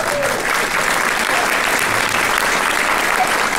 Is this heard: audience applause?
yes